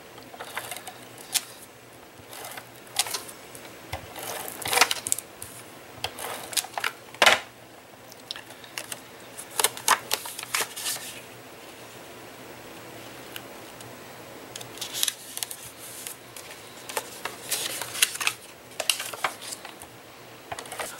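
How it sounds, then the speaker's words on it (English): Cardstock mats being cut for a pop-up photo card, heard as a scattered series of short, crisp snips and taps at close range with quiet gaps between them. "So you need to cut 4 of these mats."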